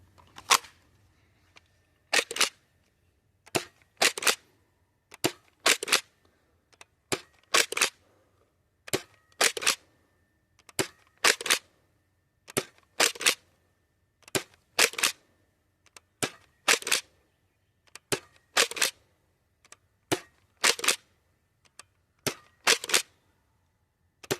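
A Nerf Pro Torrent blaster fires Dart Zone Max darts in a long series of sharp, close snapping shots, mostly in quick pairs or triplets at a fairly regular pace over quiet background.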